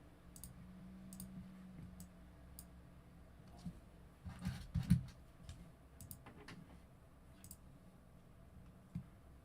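Sparse clicks and taps from a wireless computer keyboard with a low battery, faint and irregular, with a brief cluster of louder clicks and rustling midway over a low background hum.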